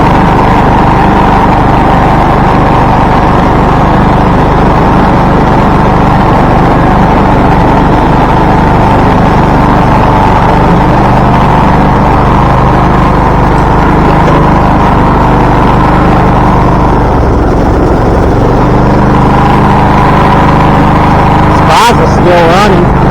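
A Craftsman T1600 riding mower engine with a worn clutch runs steadily and loudly, holding a constant drone for the whole stretch, with a couple of brief knocks near the end and faint talk in the background.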